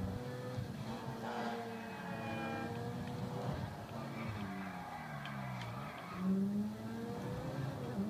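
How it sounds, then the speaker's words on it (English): A car drifting in the video game GTA 5, with an engine revving and tires squealing in long, wavering pitched sweeps, moderately faint and continuous, with one louder screech near the end. "I have been practicing my drifting"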